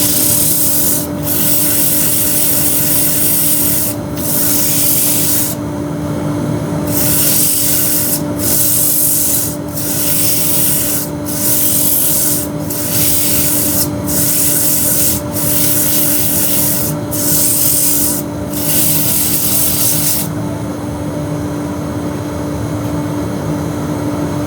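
A turned wooden bowl is sanded on the lathe, producing a loud, continuous hissing rasp over a steady motor hum, broken into repeated short bursts as the paper is pressed on and lifted off, with no talk.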